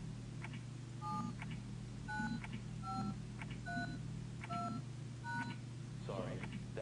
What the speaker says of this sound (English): Let's try typing in the phone number.